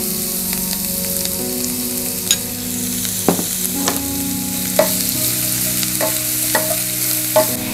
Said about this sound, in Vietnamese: Khi dầu nóng thì chúng ta cho sả và tỏi vào phi thơm. Do sả lâu vàng hơn tỏi nên mình sẽ cho sả vào phi trước.